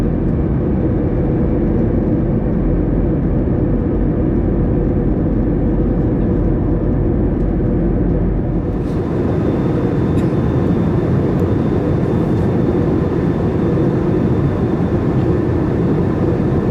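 Steady, loud cabin roar inside a Delta Airbus A321 on approach to Atlanta, a continuous broadband engine and airflow rush that shifts and brightens partway through as the aircraft is configured for landing.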